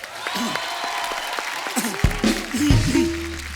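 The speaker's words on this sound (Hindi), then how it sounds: "एक मेरे लिए नहीं, विसल ब्लोअर की टीम के लिए एक बार जोरदार तालियां" Studio audience applause at a comedy talk show, steady clapping throughout with cheering voices and a few whistles mixed in, fairly loud and close.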